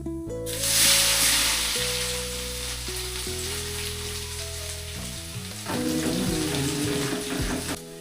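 Garlic hits hot oil with a loud sizzle that flares up at first and then settles into steady frying, joined by a tonal hum and a second surge of crackling toward the end.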